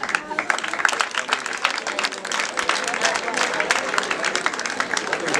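Wedding guests at a Rwandan gusaba and gukwa ceremony clap and ululate together, producing dense, continuous applause with high trilling voices, loud and sustained throughout.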